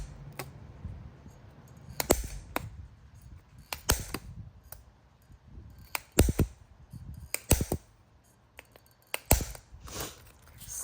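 Scissors snip through planner paper in a close, crisp series of sharp cuts, some in quick pairs, set against a quiet room.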